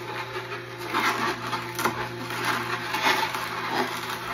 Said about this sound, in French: Ma machine, je l'aime tellement. Extracteur à jus. À mastication lente.